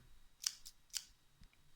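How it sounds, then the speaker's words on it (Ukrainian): Scissors snip through paper while cutting out the body of a paper mouse craft, giving two sharp close cuts plus a fainter snip, then a soft rustle, with no talking. "Для початку нам потрібно вирізати наш тулуб."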